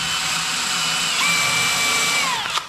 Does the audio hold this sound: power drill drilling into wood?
yes